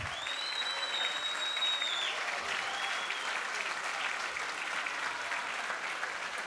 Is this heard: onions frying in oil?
no